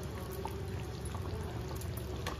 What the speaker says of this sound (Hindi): गरम पानी देदेले कुछ समय फुटवा को छाड़दबा स्लो आंचर